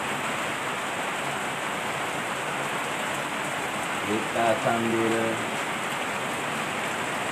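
Steady light rain hiss fills the whole stretch, with a person briefly speaking over it near the end.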